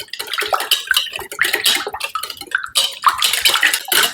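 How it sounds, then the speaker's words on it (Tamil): Liquid ingredients and sugar for Danish pølsehorn dough are stirred in a bowl, giving close sloshing and irregular clinks of a spoon against the side in quick bursts. "இப்போ எல்லா தண்ணி சாமான்லையும் போட்டு நான் மிக்ஸ் பண்ணுறேன்"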